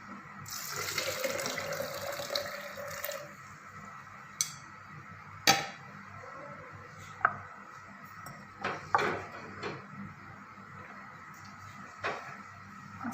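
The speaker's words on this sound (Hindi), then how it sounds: "अब इसमें ऐड करते हैं पानी।" Water pours into a container of falsa fruit being prepared for juice, a rushing stream for a few seconds, followed by scattered clinks and knocks of kitchen handling.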